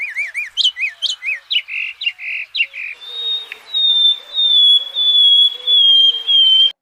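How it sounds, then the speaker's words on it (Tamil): Birds call in a lively mix, with rapid warbling chirps and squawky notes at first, then a long, thin whistling call that rises and falls repeatedly, close and clear with no talk. "பறவைகளோட கீச் கீச் சத்தம் சும்மா ஒரு இசை மட்டும் இல்ல"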